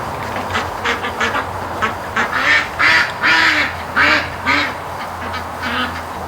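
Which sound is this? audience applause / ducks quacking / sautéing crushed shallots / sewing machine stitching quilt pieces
ducks quacking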